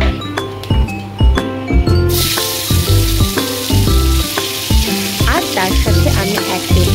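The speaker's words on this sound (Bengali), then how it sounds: "এগুলোকে খুব ভালো করে নেড়ে চেড়ে তাতে আমি মিক্সড করছি কুচো করে রাখা টমেটো কুচি" Whole spices and chopped tomato fry in a pan for masala paneer, a loud, close sizzle broken by the clinks and scrapes of stirring, with sustained musical tones running underneath.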